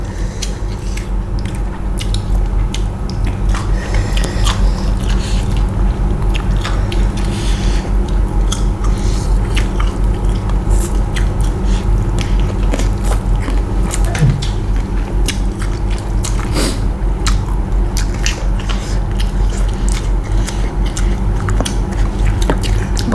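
Crisp raw vegetables eaten alongside spicy Thai papaya salad and grilled catfish are bitten and chewed close up, giving a loud, continuous crunching with repeated sharp cracks throughout.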